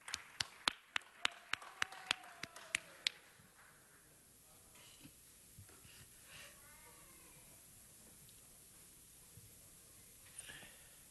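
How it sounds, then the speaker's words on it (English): Applause at a city council meeting: a short run of sharp, isolated hand claps spaced out over a few seconds, then quiet room noise with faint movement. "Give her another round of applause."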